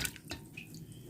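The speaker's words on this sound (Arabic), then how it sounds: "ونملاها مية" Tap water runs into a cooking pot for boiled wheat pudding, a soft splashing trickle with a few drip-like spurts, quiet and close.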